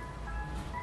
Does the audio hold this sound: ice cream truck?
yes